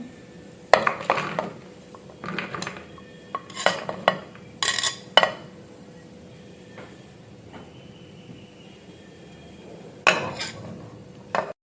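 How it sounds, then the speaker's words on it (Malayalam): Vegetables for aviyal, a Kerala mixed vegetable dish, tumbling into a pot and being stirred, with scattered clatters, scrapes and clinks of utensil against metal separated by quiet gaps. "ഇനി നമുക്ക് കുക്ക് ചെയ്യാനായിട്ട് ആദ്യം വെജിറ്റബിൾസ് എല്ലാം ഇട്ട് കൊടുക്കാം"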